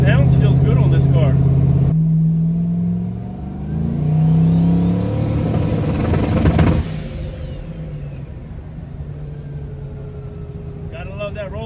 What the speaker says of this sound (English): Gotta love that rolling two-step, man.